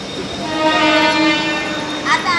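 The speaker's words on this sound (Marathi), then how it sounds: "हे बघा ट्रेन येऊ राहिली ट्रेन काय का ट्रेन दाखव ना ट्रेन दाखव चालली आहे ट्रेन" A train horn blares loudly and close as a train rolls through Diva station, with a second brief horn blast near the end over the rumble.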